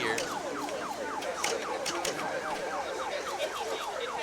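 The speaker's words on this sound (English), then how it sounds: "Unfortunately, you're hearing the police sirens off of a getaway." Police sirens wailing in repeated rising and falling sweeps, moderately distant and steady over background traffic noise near a pinball tournament venue.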